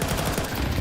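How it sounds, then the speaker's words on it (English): Rapid FAMAS rifle fire during a Counter-Strike esports match, a brief dense burst of shots lasting under a second. "A couple of FAMAS frags."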